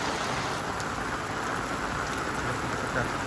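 Heavy rain pours steadily onto an outdoor work site during a downpour, a dense, continuous hiss of drops striking surfaces with no talking.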